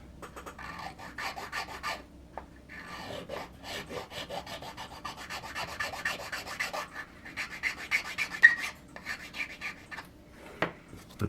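Steady rasping strokes of a hand file on a wooden model ship part, repeated back and forth in an uneven rhythm, close up with no talking.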